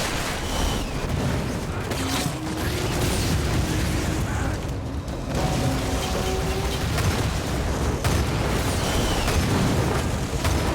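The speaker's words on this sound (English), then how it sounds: "A lot of explosions." Dense, continuous explosions and booms in the video game Lost Planet, overlapping blasts and gunfire rumbling without pause, with game voices mixed in.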